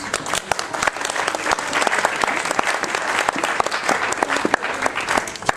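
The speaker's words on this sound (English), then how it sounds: "we got another round of applause for the bridesmaids" Wedding guests give the bridesmaids a round of applause during the speeches, loud close clapping with sharp individual claps standing out in an unbroken rush that runs the whole time.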